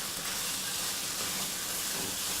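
Meat for kibbee sizzles steadily in a wok, a dense, even hiss of frying that is close and fills the whole stretch without any pauses or voices.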